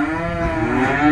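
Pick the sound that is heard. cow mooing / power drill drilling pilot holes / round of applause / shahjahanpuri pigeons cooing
cow mooing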